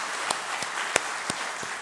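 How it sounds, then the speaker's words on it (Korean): Scattered applause from a church congregation during a worship service, a handful of separate claps spaced across under two seconds over a steady room hiss. "우리 다 같이 감사와 환영의 마음을 담아 우리 박수 한번 보내드리도록 하겠습니다"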